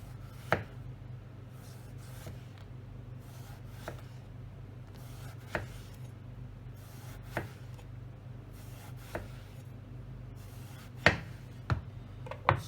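A sharp knife cuts a vegetable into thin slices on a board, about a dozen crisp, separate knife strikes at an unhurried, uneven pace, quiet and close.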